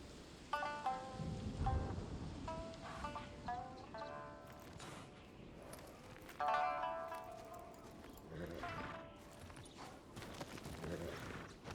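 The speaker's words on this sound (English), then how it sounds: "this thunderstorm just rolled in" Steady rain hiss and a low rumble of thunder fill a video game thunderstorm, with clopping hooves and bright tonal game music layered over it at a moderate, continuous level.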